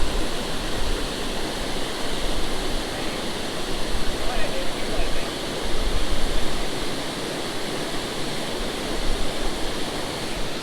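A creek waterfall pours steadily at a fishing spot below the falls, a loud, continuous broadband rush of falling water that swells slightly in places and holds close and constant throughout.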